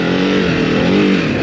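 Ducati Desert X motorcycle engine on a road ride in rally mode with traction control on, a loud, steady, close engine drone with a slight rise in pitch and no speech.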